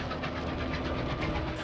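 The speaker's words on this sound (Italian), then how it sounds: "Il silenzio della notte, desertica, è spezzato dal rombo di una locomotiva." A locomotive rumbles through the Gobi desert at night, a brief steady low mechanical roar with a faint rhythmic throb and no voices.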